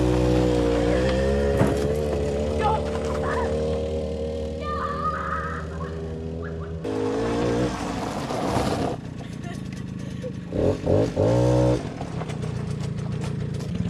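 A Suzuki 50cc two-stroke engine, with a leaking oil injection, warms up, its buzzing idle rising and falling with short revs, while people talk nearby.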